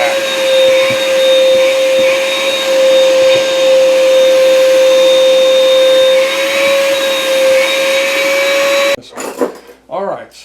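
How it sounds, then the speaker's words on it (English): A shop vacuum runs close and loud with a steady whine that holds for about nine seconds, then cuts off. A person talks briefly at the end. "Sounds like I might need to empty my shop vac."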